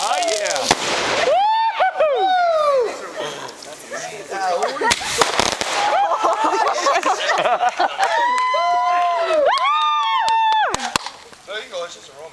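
Canada Day fireworks exploding in 2011, loud repeated bangs and crackling bursts nearby, with excited voices shouting and talking throughout.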